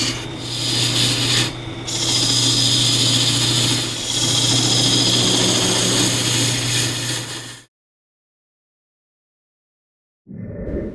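A wooden lidded box turned on a wood lathe is cut in half on a bandsaw, giving a steady loud rasping cut with a low motor hum for several seconds, then silence before the saw noise starts again.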